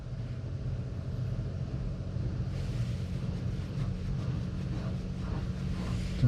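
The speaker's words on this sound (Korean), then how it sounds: "세차를 하고 있습니다." A Genesis G90 sedan inside an automatic car wash: steady broadband rushing of water spray and brushes with a constant low rumble, loud and continuous, brightening in the second half as the washing intensifies.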